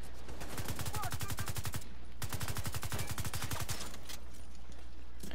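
Loud bursts of rapid automatic gunfire from The Division 2, two long rattling volleys separated by a short pause, with a fainter trailing burst and game ambience beneath.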